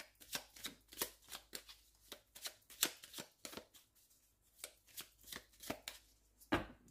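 A Belline oracle card deck is shuffled and cut, giving a quick series of crisp riffling and slapping card sounds, close and fairly quiet, with a sharper knock near the end.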